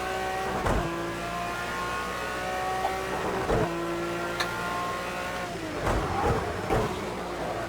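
A race car engine in a driving simulator drones steadily and loudly throughout, with a few sharp gear-shift or rev dips spaced apart.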